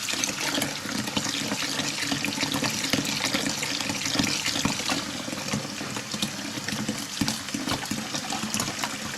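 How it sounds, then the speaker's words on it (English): Hot water is mixed and stirred into calf feeding mix, giving a steady, dense, close wash of sloshing liquid for about nine seconds with no talking. "mix the water in and just keep stirring it up."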